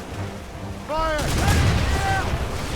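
Ship cannons fire in a naval battle in Assassin's Creed Rogue, a heavy booming volley that swells and holds loud over rumbling sea noise, with shouting voices and music-like tones layered on top.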